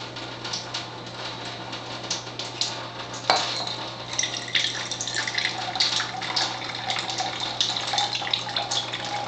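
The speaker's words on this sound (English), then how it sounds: "I'm just going to pour some acidic water" Acidic ionized water pours steadily into a cup, a continuous splashing trickle with a faint hum underneath and no talking.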